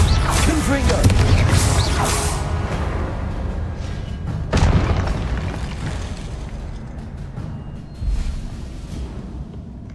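Booming spell blasts from the Confringo fire spell in Hogwarts Legacy, with a sharp burst near the middle and another toward the end, over dense continuous game noise and a speaking voice.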